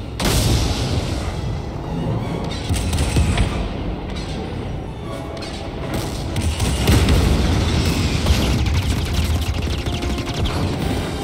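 Rumbling booms and blasts from the video game Star Wars Jedi: Fallen Order, a dense, loud barrage of low-heavy explosions and gunfire-like cracks rolling on continuously without pause.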